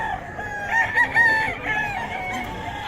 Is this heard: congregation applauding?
no